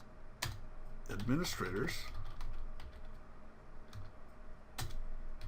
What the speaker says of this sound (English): we type in net local group